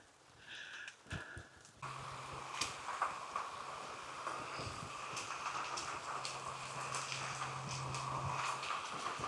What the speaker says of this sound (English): Now we get to tromp in water puddles.